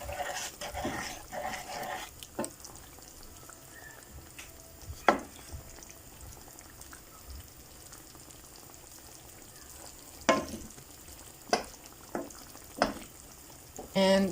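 Chicken adobo with vinegar and sugar simmers and sizzles softly in a pan while being stirred, with scattered sharp knocks and scrapes of the utensil against the pan, and a dog barking a few times nearby.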